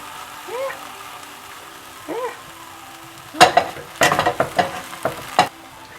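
Bread slices laid mayo side down in a pan beside frying tomatoes that are flipped, a soft sizzle and faint voice-like sounds giving way to a burst of loud clattering scrapes and taps from a spatula.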